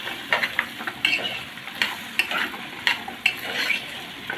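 Taro with meat sautés in butter in a pan, giving a close sizzle broken by repeated scraping stirs at an irregular rhythm, with no voices.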